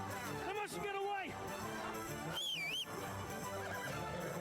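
Horses whinny loudly in the Kingdom Come Deliverance II video game during a mounted chase, with two distinct neighs rising and falling over game music and background voices.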